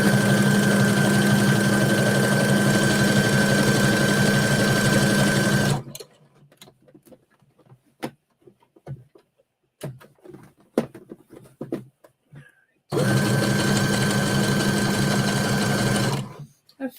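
A modern sewing machine stitches a repair on jeans, running loud and steady for several seconds. It stops for a stretch of small clicks and handling sounds, then whirs back up for another long run.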